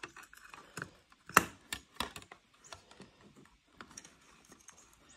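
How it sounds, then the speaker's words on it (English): A bezel is worked loose from a light fixture whose spring clips have been removed, giving scattered sharp plastic clicks and snaps with one louder crack, close and with no talk. "Now I'm going to move the bezel."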